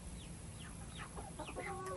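Chickens and roosters on a farm give a short burst of clucks and squawks, several overlapping bird calls close by over a low background rumble, with no talking.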